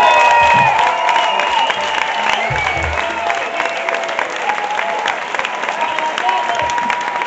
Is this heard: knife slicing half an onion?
no